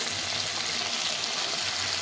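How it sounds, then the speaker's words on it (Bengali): Fish frying in a pan, a loud, close, continuous hissing sizzle of hot oil with no pauses. "এখন মাছ ভাজাটাও আমার হয়ে যাচ্ছে"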